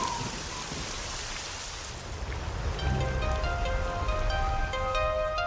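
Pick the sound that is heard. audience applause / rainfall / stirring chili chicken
rainfall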